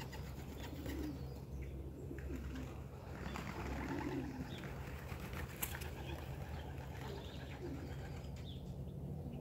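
Young racing pigeons out settling at a loft. Faint wing flutter and soft bird sounds sit in distant outdoor ambience, with a steady low hum and scattered light clatter, no voices.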